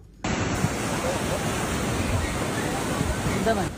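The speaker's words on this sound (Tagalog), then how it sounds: "nakunan din ng video ang pagragasa ng tubig baha na nilamo na ang ibabang bahagi ng kabahayan" Floodwater from Typhoon Tino in Cebu rushes in a loud, continuous broadband roar that starts abruptly and churns on without pause.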